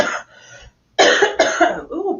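A woman on a video call coughs in several harsh bursts, with a short pause after the first and then two loud, close coughs. The last one trails off into a softer throat sound.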